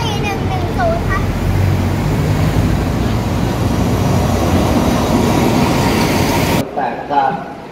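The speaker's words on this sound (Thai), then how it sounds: "รถมาแล้วนะครับได้นั่งรถจักรดีเซลครับ" A Thai diesel-locomotive train, engine 4110, rumbles in loudly with heavy rolling noise and a few high squeals, steady and close, before it suddenly drops away; a voice is heard briefly.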